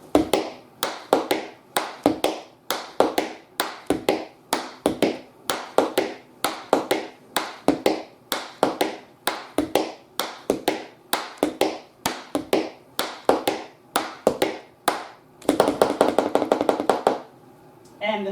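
Close, crisp tap shoe strikes on a hard floor beat out popcorn step variations in a rapid, even pattern, finishing with a fast tight burst of taps.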